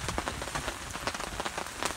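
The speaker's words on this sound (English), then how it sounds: "snow has turned into some serious rain" Heavy rain falls steadily at a winter camp after snow has turned to rain, a dense, close patter of drops striking surfaces throughout with no voices.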